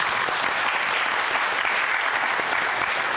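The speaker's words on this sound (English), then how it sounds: "Big applause to our new friends." A church congregation at a Sunday service breaks into steady, dense applause welcoming newcomers, many hands clapping together at a moderate level throughout without any speech.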